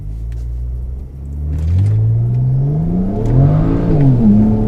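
A tuned BMW 335i with the N54 twin-turbo engine launches hard with wheel spin, its loud, close engine note rising and wavering as the revs climb and surge, with no talk over it.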